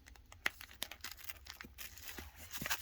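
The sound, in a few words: peeling apart comic book pages stuck together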